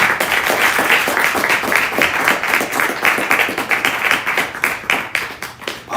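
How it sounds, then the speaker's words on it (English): An audience at a Black History Month celebration gives a rousing round of applause for Her Excellency, loud, close clapping with a lively patter that thins slightly toward the end. "give Her Excellency a rousing round"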